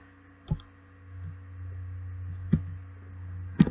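A computer mouse clicks while someone works in Photoshop, three separate crisp clicks spaced a second or two apart over a low steady electrical hum.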